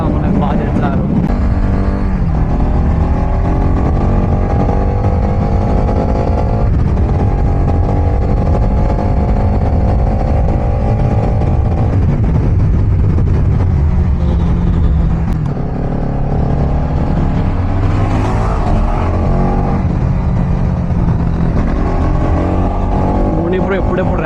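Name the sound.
Yamaha RX100 motorcycle engine revving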